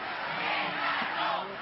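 A compact crowd marching at an anti-terrorism rally in Madrid sends up a loud, continuous roar of massed voices chanting and shouting.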